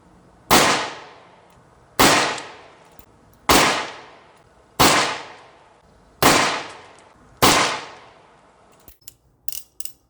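Six sharp, loud shots from a Colt Single Action Army 1873 revolver ring out at even intervals of about a second and a half, each with a short decaying echo, followed by a few faint mechanical clicks.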